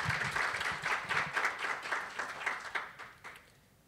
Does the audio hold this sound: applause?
yes